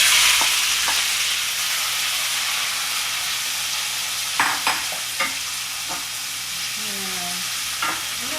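Mixed red, green and yellow bell peppers, onions and cherry tomatoes tipped into a pan and frying, with a steady loud sizzle throughout and a few scattered clinks and scrapes of stirring.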